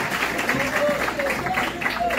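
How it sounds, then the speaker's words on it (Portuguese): An audience claps to welcome Professor Davi at a school health and safety lecture at IFRJ Campus Paracambi. A dense, steady wash of clapping runs throughout, mixed with murmuring voices. "Quero que vocês recebam com aplausos o professor Davi."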